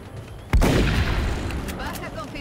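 A single sharp, loud grenade blast in the turn-based game XCOM: Enemy Within, a sudden boom followed by a rumbling decaying tail and scattered debris-like crackles, with quieter background sound before it.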